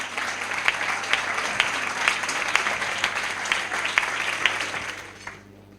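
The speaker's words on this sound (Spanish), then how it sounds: "muchísimas gracias por el aplauso" Steady applause from the audience at an award dinner, dense and sustained clapping that holds at full strength before tapering off near the end.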